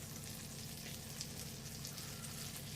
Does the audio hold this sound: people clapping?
no